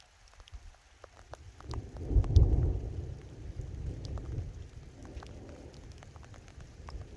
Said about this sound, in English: I'm gonna get soaking wet right now because I'm sitting in the rain